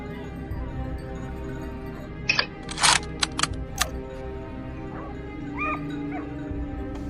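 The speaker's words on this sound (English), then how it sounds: "As the barking grew louder," Hunting dogs bark and yip in a short cluster while driving a herd of wild boar uphill on a slope, mid-distance over faint outdoor background noise, followed by a softer whimper.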